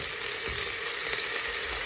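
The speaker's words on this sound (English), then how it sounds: "now goes the chopped onions here." Chopped onions hit a hot pan for a vegetable rice dish, giving a loud, continuous close sizzle with a faint soft scrape or two under the hiss.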